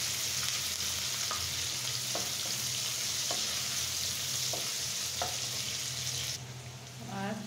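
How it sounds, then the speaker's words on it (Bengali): Chopped green chillies and onion fry in very hot oil with a close, continuous crackling sizzle dotted with small pops. The sound thins out briefly near the end. "এখন 1 মিনিট এটা ভেজে নেব। তেলটা প্রচণ্ড গরম,"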